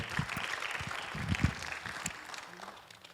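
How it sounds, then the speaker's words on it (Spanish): Church congregation clapping during a Spanish-language sermon, moderate and steady for a few seconds, a bit distant and thin, with scattered individual claps standing out. "Dele un aplauso fuerte al Señor."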